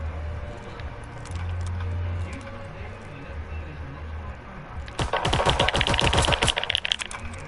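Rapid gunfire in a video game, a fast burst of crackling shots arriving in the last few seconds after a quieter stretch of low background hum.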